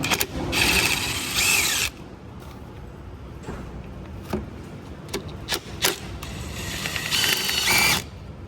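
Ratchet clicking on T45 Torx bolts holding the AC lines of a 2015 Audi A4 during compressor removal, with bursts of rapid ratcheting and a few sharp metallic taps in between, close and fairly loud.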